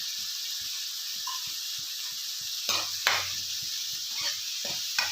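Chicken sautéing in a pan with chili powder and turmeric, a steady sizzle under regular scraping stirs and a few louder clatters of the spoon against the pan.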